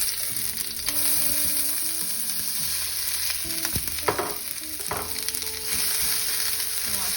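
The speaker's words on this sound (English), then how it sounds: "you want to saute that." Onions sauté in hot olive oil in a skillet with a steady, close sizzle and crackle, and a few scraping stirs breaking through the continuous frying.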